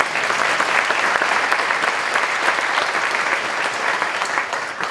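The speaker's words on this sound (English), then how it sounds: "thank you for a round of applause for all the finalists" An audience at a health heroes award event applauds the finalists with steady, dense clapping throughout, loud and close, with no pause.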